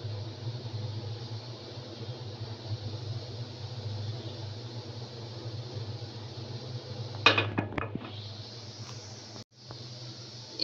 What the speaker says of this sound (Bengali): এখন আমি প্যানটা একটু ঘুরিয়ে দিব।